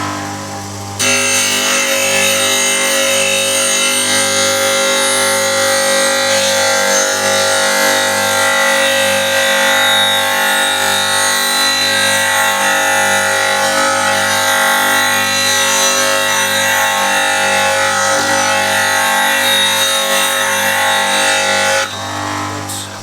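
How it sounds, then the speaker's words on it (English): Bench grinder steadily sharpening the bevel of a steel cabinet scraper, a continuous loud whine with grinding rasp that runs unbroken for about twenty seconds before stopping. "Nicely sharpened straight from the grinder."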